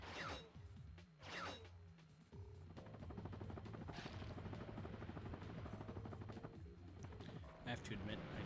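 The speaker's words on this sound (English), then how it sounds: "I have to admit, I do love the chopper sound effect." Whirring chopper effect from the Ratchet and Clank video game, a steady rapid mechanical flutter that runs continuously under game music and clanks, with a few sharp hits near the start and end.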